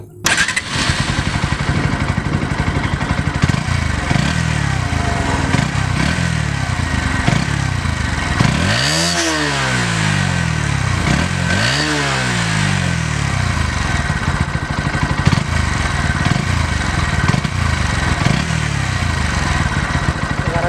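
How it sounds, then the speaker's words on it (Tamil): A Bajaj NS 125 motorcycle engine cranks and catches, then runs with a steady, loud thumping idle and repeated throttle blips that rise and fall. "ஸோ இப்போ வண்டியோட கிராங்கிங் சவுண்ட் நான் உங்களுக்கு போடுறேன்"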